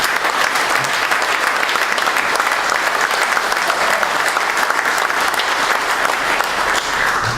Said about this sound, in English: We have a round of applause for Jack Bauer.